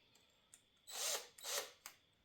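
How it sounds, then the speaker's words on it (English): Power drill pre-drilling holes for 2.5-inch decking screws into plywood and 2x4s: two short, fairly quiet whirring bursts with small clicks and taps between them, no talking. "So let me pre-drill first."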